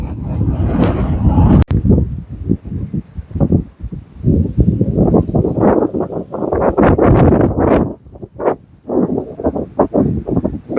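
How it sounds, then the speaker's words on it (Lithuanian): Strong wind gusts during snowfall at an old rural homestead, loud uneven bursts buffeting close by in irregular waves with brief lulls between them. "Belė koks vėjas."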